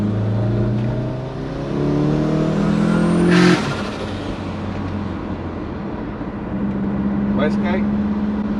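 A big-turbo Subaru accelerates hard on kick down, the engine note climbing steeply and loudly before cutting off sharply, then settling to a lower drone with a brief whistle; voices are heard.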